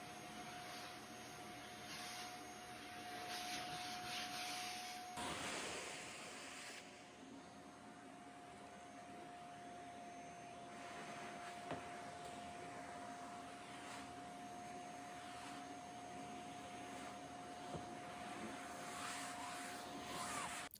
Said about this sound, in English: I needed to vacuum them out because of all the little dust and sand and stuff